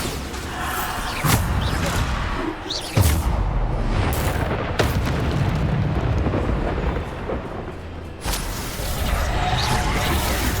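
Bombarda blasting spells in the video game Hogwarts Legacy, several loud booming blasts amid a constant roaring combat din, with sharp hits landing every few seconds.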